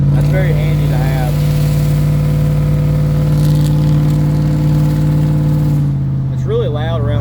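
A truck with a 5.3L Vortec engine bored out to 5.7L (LS1 bore) runs with a loud, steady, throaty drone that drops off near the end, while a person talks over it.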